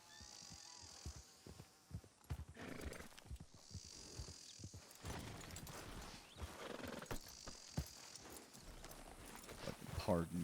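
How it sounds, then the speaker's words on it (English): Horse hooves clip-clopping in a rhythmic gait, with a whinny breaking through, in a Western drama scene; someone speaks over the hoof falls and the sounds stay moderately close. "Tell Scout to bring my horse"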